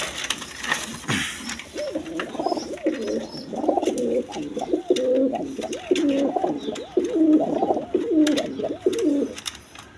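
A pair of Mosoldom pigeons at a pigeon farm: close, repeated throaty cooing in rhythmic bursts for most of the stretch, with faint background clicks and rustling.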